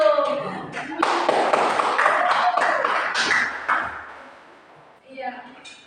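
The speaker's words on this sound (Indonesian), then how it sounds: "Oke, kasih aplaus buat Tio." Classroom applause for a student in an Indonesian high school (class X) teaching session, a dense burst of many hands clapping that swells, holds for a few seconds, then fades, with voices mixed in.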